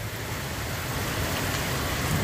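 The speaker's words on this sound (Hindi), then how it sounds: "आज इतनी ज़्यादा यहाँ लखनऊ में बारिश हो रही है" Heavy rain pouring down in Lucknow, a dense, loud, unbroken hiss of downpour drumming on surfaces, with no voices.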